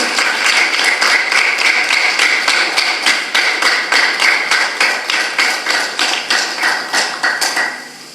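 Loud crowd applause at a stage function in honour of mothers, welcoming a guest to the stage, settles into a steady rhythmic unison clap and fades out at the end.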